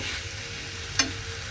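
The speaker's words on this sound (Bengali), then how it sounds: "এইবারে এই আলুটা দিয়ে আবারও কিন্তু খুব ভালোভাবে একটু কষিয়ে নেব" Potatoes sautéing in a pan for a vegetarian curry, a steady close sizzle with one sharp clink of a utensil midway.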